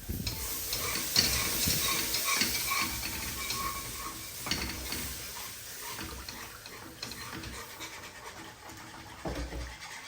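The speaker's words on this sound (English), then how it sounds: "So I'm going to keep whisking that until all of the lumps have disappeared." Whole milk being whisked into a flour roux in a pan, a steady rhythmic scraping and clicking of the whisk against metal, close and continuous, with no one speaking.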